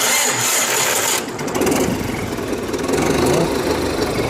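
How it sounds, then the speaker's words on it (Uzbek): A tractor diesel engine with a turbocharger runs close and loud, a steady rough rumble with a faint turbo whine, heard alone without voices. "Turbo kompressorlarni ham ovozini eshityapsizlar."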